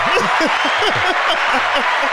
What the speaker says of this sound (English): Oh, we applauding.